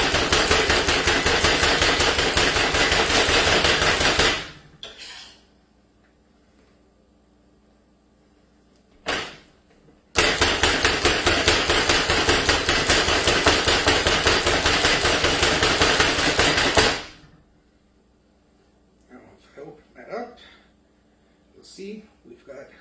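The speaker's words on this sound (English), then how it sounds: "So go ahead and do that and chop up your herbs." Fast, steady knife chopping of fresh cilantro on a cutting board, two long loud runs of rapid close strokes separated by a short pause, followed by a few scattered lighter taps.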